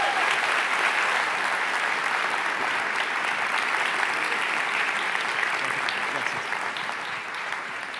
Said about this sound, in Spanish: si pueden recibir con un caluroso y fuerte aplauso a Agustín Laje